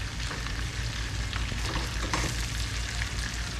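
Parmesan chicken pieces fry in a pan with a steady, close sizzle and crackle, with occasional light scraping as they are turned; no talk.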